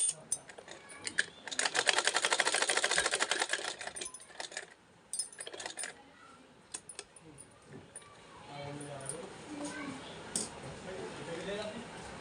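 An old home sewing machine stitching fabric gives a rapid, clattering run of about three seconds, followed by quieter handling sounds and then someone speaking.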